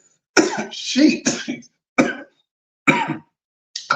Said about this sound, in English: Coughing like mad.